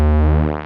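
Behringer 2600 synthesizer VCO3 oscillator under pulse width modulation, a buzzy tone with sweeping, phasing harmonics that shift and waver, loud and alone for a brief moment.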